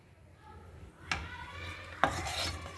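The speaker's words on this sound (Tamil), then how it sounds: "நான் 2வதாக இந்த அரிசியை வந்து நல்லா வறுத்துட்டுருக்கேன்" Raw rice dry-roasting in a pan for a Tamil Pongal-style curry, stirred with a soft scraping and rustling, with two sharper scrapes of the spoon against the pan standing out over a low hum.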